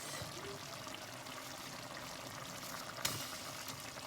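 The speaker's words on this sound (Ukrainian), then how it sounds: "і налиємо трошки ще води." A quiet, steady pour of water into a cooking pot, a soft continuous trickle with a small clink near the end.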